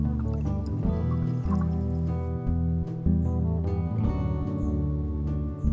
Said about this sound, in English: let's pour some water. Shall we? And a bit of our vinegar as well